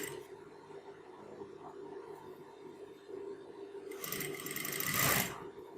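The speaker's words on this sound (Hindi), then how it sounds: "यहाँ से वापस सिलाई करना स्टार्ट कर देना है" Sewing machine stitching a kanchali blouse, a steady low hum running throughout, then a louder, brighter burst of fast stitching near the end.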